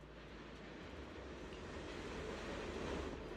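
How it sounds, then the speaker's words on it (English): An approaching train in the video game Zenless Zone Zero makes a steady, faint rumbling roar that swells slightly as it draws nearer, with no other sounds on top. "The train's almost here, you should head home."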